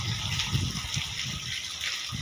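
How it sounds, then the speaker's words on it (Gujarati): Rainwater draining out of a flooded spot after hours of heavy rain in Bhesan, a steady close gushing and trickling flow with low splashy surges throughout. "હા જો હવે પાણી નીકળે."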